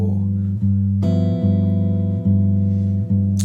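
A guitar plays a walking bass line, low plucked notes stepping along at an even pace, each note ringing into the next. The guitar plays alone.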